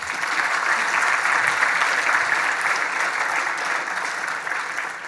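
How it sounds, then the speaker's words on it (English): An audience at a tech talk claps warmly, a dense, continuous wash of applause holding steady for several seconds without any speech over it. "Another round of applause."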